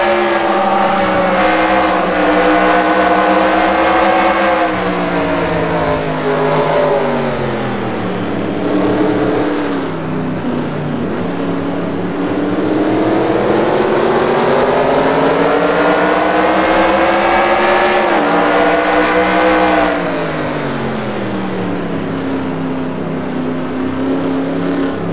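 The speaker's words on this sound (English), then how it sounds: "See if Tyson Chang is down on horsepower at all going down the backstretch" Stock race cars roar down the backstretch at Riverside during a 1970 400-mile race, engines loud and sustained with pitch rising and falling as cars accelerate and pass, continuous throughout with no talk.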